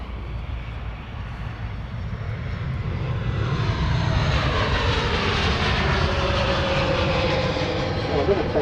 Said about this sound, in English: Listen to these engines. Pratt & Whitney